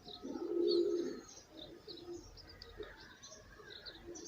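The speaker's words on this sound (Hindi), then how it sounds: "ये हमारे पास कबूतर है" A single soft, low cooing call rises near the start, followed by fainter bird chirps and small rustles in the background.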